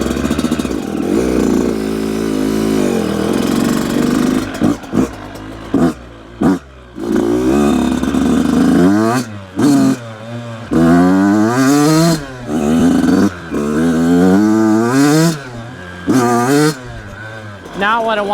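A brand-new Yamaha YZ85 dirt bike running rich with plug fouling revs loudly on a test ride, its engine rising and falling through repeated throttle blips and climbs, close and dominant, with a voice in places.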